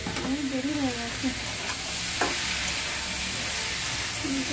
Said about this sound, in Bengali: তরকারি বসিয়ে দিয়েছি, আলু দিয়ে দিয়েছি, টমেটো ফমেটো সব দিয়ে দিই